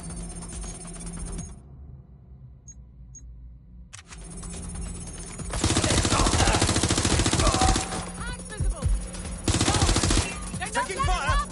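Rapid bursts of gunfire ring out in the Watch Dogs video game, loud sustained volleys after a quiet stretch, broken by short gaps and mixed with a game voice.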